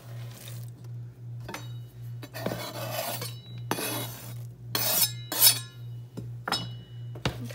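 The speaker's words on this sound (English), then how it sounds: "And kind of mix them around" A utensil scrapes and clinks in a bowl as pecans and white chocolate morsels are stirred into cake mix cookie dough, with repeated rasping strokes of uneven rhythm, close and moderately loud, without speech.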